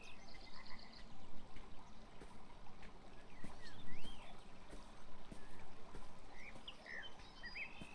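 Frog croaks from the video game Beyond Eyes sit in a quiet outdoor scene beside a flowing river, faint and intermittent over a steady watery wash with occasional bird chirps.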